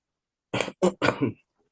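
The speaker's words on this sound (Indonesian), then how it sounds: "sorry guys, agak batuk ya." A short burst of throat clearing and coughing, three or four rough hacks close together, close and moderately loud with no talking.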